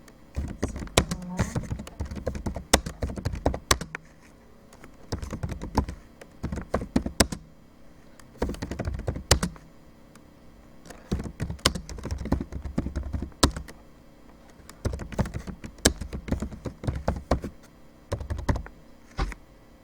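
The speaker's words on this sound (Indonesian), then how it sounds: "Langsung saja kita ketikkan soalnya" Quiz questions being typed on a computer keyboard come through as clusters of rapid, close clicking keystrokes in irregular bursts separated by short pauses, with no talking.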